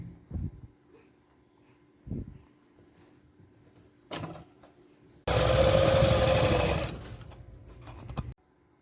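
A sewing machine runs one burst of stitching along the bottom hem of a pair of pants, a loud close whirring lasting about two seconds, preceded by several short handling clicks and rustles.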